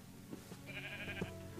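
A sheep in Minecraft lets out a single drawn-out bleat, fairly faint, over a low, steady game background.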